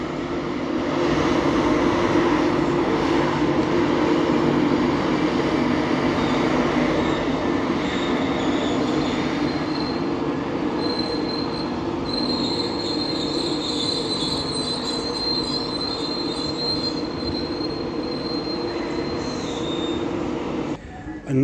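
An East Coast Main Line train passes through Doncaster with class 91 locomotive 91119 on the rear, a steady loud rumble of wheels with sustained high metallic squeal running throughout, close by and without speech.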